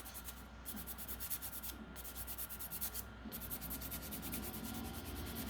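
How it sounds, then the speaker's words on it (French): A nail file rasps steadily back and forth across an artificial nail made with toilet paper and flour. The strokes are quick, repetitive and close, quiet overall, with a few brief pauses between runs of filing and no talking. "je vais venir reprendre cette lime"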